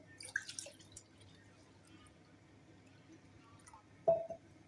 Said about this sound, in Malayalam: നമ്മളിനി അത് വെള്ളം ഒഴിച്ച് തിളപ്പിക്കാൻ പോകും നമ്മൾ വെള്ളം ഒഴിക്കുകയാണ്